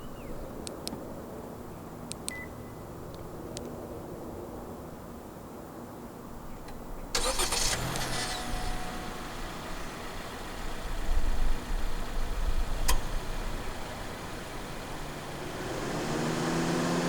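An 8th-generation 2023 Honda City 1.5 E sedan starts by remote with a sudden crank and catch, then settles into a steady low idle, heard from nearby with faint ticks before the start.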